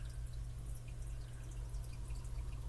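Liquid trickles into a small toy potion bottle, a soft continuous pour with light dripping and bubbling over a low steady background hum, fairly quiet and close.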